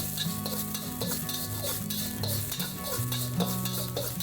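Minced garlic hisses in a little oil in a hot wok, a loud, close sizzle broken by rhythmic scraping strokes of the stir-fry, with a steady hum beneath and no talking.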